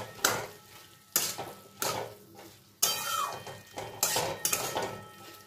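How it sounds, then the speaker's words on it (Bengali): Grated coconut being stir-fried with potato and kakrol (spiny gourd) in a pan, heard as a series of distinct scraping clatters of a utensil against the pan, about six strokes with short pauses between them, close and fairly loud, with no voices. "নারকেল কোড়াটা দিয়েও আমি সব কিছুর সঙ্গে একটু কষিয়ে নেব।"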